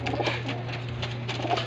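Racing pigeons in a loft coo softly and repeatedly at close range, with faint bird shuffling and a steady low hum underneath.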